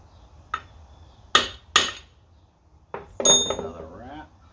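Hammer blows on a seized bolt of a Mercury 60hp EFI four-stroke outboard water pump, with two sharp metallic strikes close together, then a few more clanks with ringing metal overtones.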